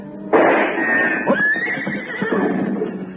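A horse whinnies loudly in an Old West radio drama set at a gold-mining camp, one long neighing cry rising and falling over a steady background, close and prominent.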